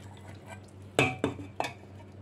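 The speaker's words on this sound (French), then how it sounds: "Je vais verser ce sauce-là dans la pâte et mélanger bien." Sauce being stirred into rice vermicelli in a pan with beef and vegetables, heard as a few close scraping, clattering knocks of a utensil against the pan over a quiet kitchen background.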